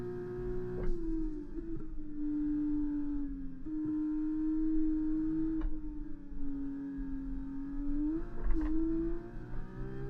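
Formula 1 car engine in the racing game F1 2024 on the Monaco circuit, a sustained high-pitched whine rising and falling through gear changes over a full-throttle lap, with a few short clicks.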